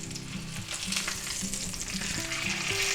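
Sous vide thick boneless pork chops searing in a pan, a steady close sizzle and crackle with faint utensil clinks and tonal scraping beneath it.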